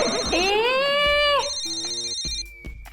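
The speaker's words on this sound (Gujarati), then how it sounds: "આ ફોન અહીંયા વાગે છે." A mobile phone rings indoors during a Gujarati family comedy scene, with a bright, repeating electronic ringtone melody that is loud and close and stops after about two and a half seconds. No one speaks over it.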